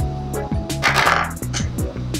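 A small hard cosmetic product container tips over and rattles, wobbling with a quick series of clattering knocks on a hard surface before settling.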